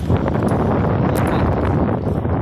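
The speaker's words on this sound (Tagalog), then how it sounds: "lakas ng hangin" Strong wind buffets the microphone on a ride home from a mall in the midday heat, a steady broadband roar filling the clip without pause and no talk over it.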